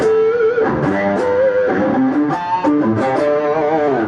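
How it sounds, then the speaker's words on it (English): Electric guitar through a Boss GT-1 extreme lead amp simulation with room reverb, a sustained, heavily distorted melodic lead line with bends and vibrato, loud and unaccompanied. "So this is the sound of the extreme lead amp simulation."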